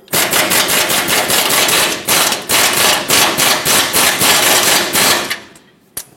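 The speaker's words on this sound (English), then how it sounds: "Sometimes you're able to get away with just tapping the air gun until the bolt kind of stops spinning." A pneumatic air impact gun rattles loudly in rapid bursts while tightening a bolt, several hard hammering runs broken by brief pauses and ending abruptly with a final clack.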